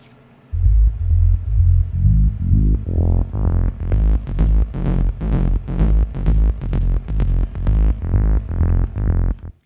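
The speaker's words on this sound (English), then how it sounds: "It's a very basic FM bass." A deep, pulsing FM synth bass made in Ableton Live's Operator plays a repeated rhythmic pattern, its tone opening from dull and muffled to bright and buzzy as a filter sweeps upward.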